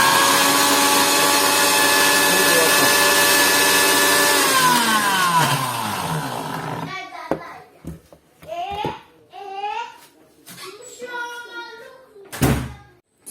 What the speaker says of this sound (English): this is the onion, garlic, ginger and pepper. I want to blend it first.